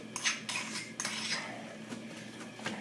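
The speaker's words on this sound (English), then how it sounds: "Stir it in there." White queso is stirred into a salmon patty mixture in a bowl, with a spoon knocking and scraping against the dish in a quick run of close clinks and scrapes.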